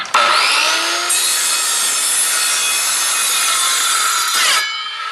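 A Skil circular saw rips lengthwise through a 2 by 4 with the blade set at full depth, a loud sustained whining cut that spins up, holds steady for several seconds, then winds down.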